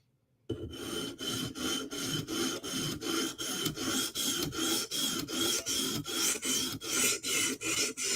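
A Chris Reeve Umnumzaan blade is drawn across a sharpening stone in brushing strokes, a raspy scraping repeated in an even, rapid rhythm of about two strokes per second after a short silence, close up.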